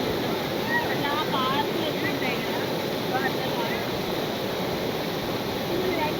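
Steady, dense rushing roar of Vibhuti Falls near Gokarna, a waterfall pouring continuously at close range with no pauses, broadband and unbroken throughout.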